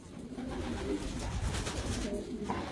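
Pigeons coo in a loft at a bird nursery, a steady run of low, throaty coos layered over one another at close range, with faint murmuring in the background.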